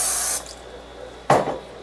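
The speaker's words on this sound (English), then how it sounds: "give our pan a little bit of a spray here" A can of cooking spray hisses into a pan in one short, close burst, followed by a brief clatter.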